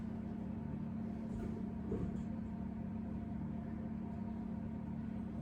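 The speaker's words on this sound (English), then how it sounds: "we're just going to take our mixer here and we're going to mix our flour" An electric mixer stirs flour and sugar for a shortbread base, a steady low motor hum running evenly and fairly quietly throughout with no voices.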